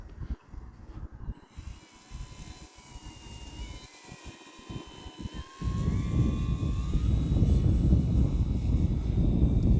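An Arrows Husky model airplane's high, whining motor buzzes overhead, pitch rising and falling as it passes, with wind rumble growing stronger midway.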